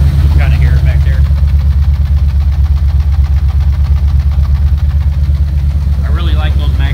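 A fuel-injected rat rod truck engine idles close by, a loud, steady low rumble with a knocking pulse, while someone talks over it now and then.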